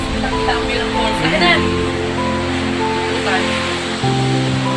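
Sabsaban Falls waterfall in Brooke's Point, Palawan, a constant rushing wash of falling water, with people talking over it.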